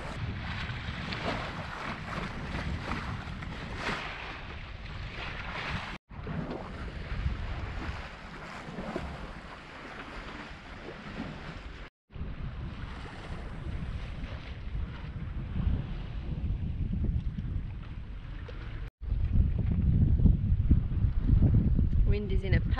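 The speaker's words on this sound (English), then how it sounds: "now it seems we actually have wind coming slightly from the bow" Wind rushes over a sailboat under way, with wind coming slightly from the bow: a loud, steady broadband roar buffeting the microphone, with brief dropouts and a gustier, heavier surge near the end.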